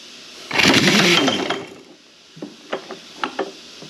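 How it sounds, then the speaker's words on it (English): A 1-inch air impact wrench hammers loose a nut on a 1939 Caterpillar D4 pony motor, one loud rattling burst of about a second, followed by a few sharp metallic clicks and knocks. "I'm going to use Big Brutus for this, our 1-inch air impact"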